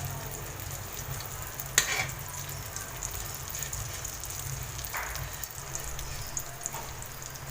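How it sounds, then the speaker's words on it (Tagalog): Tortang isda, a fish omelette, fries quietly in a pan with a soft, steady sizzle and a few faint crackles and pops throughout. "Prituhin natin."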